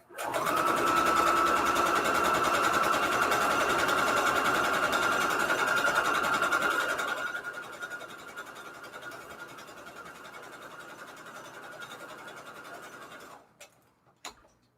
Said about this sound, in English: Just doing a straight stitch with really short stitches.